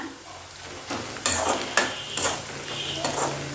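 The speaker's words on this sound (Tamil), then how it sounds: "இப்போ இந்த ஸ்டேஜில் இது மாதிரி நல்லா கோல்டன் கலர் ஆகிற வரைக்கும் நல்லா வதக்கிக்கோங்க." Ingredients for Tamil kaara chutney sautéing in a pan until golden, with a steady soft sizzle under repeated scraping strokes of a spoon stirring against the pan, each scrape a short bright burst.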